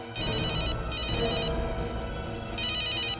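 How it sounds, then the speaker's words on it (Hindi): A telephone rings in repeated bursts, a bright electronic trill with short pauses between rings, loud and close over a low background hum. "सुन लो, घंटी बज रही है।"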